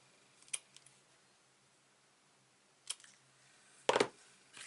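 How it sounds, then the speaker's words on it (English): Scissors snip through card stock in a few short, crisp cuts, with isolated clicks early on and a sharper, louder snip near the end in an otherwise quiet room. "I'm just going to cut this at a pretty little angle."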